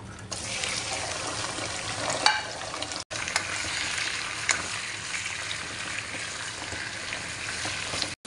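Chicken pieces frying in a hot pan for chicken biryani, a loud continuous sizzle with stirring and scraping throughout, close up and with no voices.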